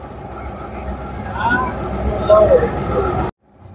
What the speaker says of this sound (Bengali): তো হে গাইজ, আমাদের বোট ছেড়ে দিয়েছে, দেখতেই পাচ্ছেন